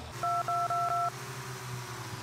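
Touch-tone dialing in the Sub Rosa video game: four short, even DTMF beeps in quick succession over a low background hum, then a steady tone continues without the beeps.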